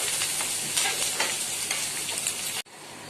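Onions and curry leaves fry and get stirred in a pan for a mutton pepper fry, a dense crackling sizzle with scraping stir strokes, cutting off abruptly near the end.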